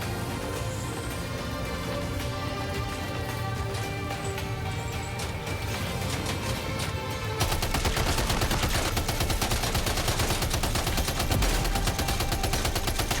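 Gunfire in the video game Death Stranding 2 from a weapon with heavy recoil: sustained rapid shots crackling over a steady game soundscape, growing denser and louder partway through, with no speech.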